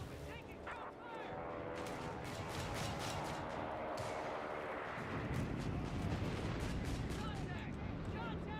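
Constant rumbling artillery and scattered gunfire on a video game battlefield, dense and loud throughout, with heavier booming blasts building toward the end.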